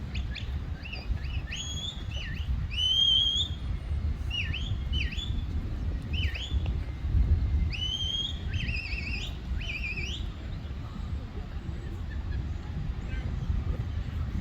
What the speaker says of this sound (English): Listen to the whistles.